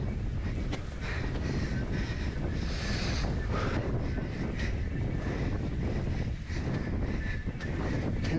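Strong, steady wind roaring across open ocean water during a downwind foil paddleboard race, a continuous loud rush with buffeting on the microphone and the wash of small swells underneath.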